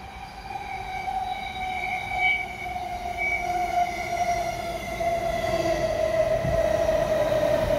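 A passenger train at Kellyville station rumbles steadily past on New Year's Eve with a droning mechanical hum and faint high-pitched wheel squeal, growing slightly louder toward the end.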